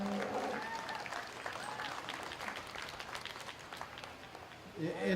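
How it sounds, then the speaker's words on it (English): Audience applause at a county fair 4-H/FFA beef cattle showmanship event, a steady wash of clapping from the crowd lasting several seconds, with scattered voices mixed in and a louder swell near the end. "Let's put your hands together and give a big round of applause."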